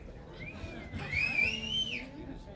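A woman whistles a sustained, gliding melody that rises and falls, fairly close and clear over a low background hum, at an informal music performance with a singer-songwriter duo.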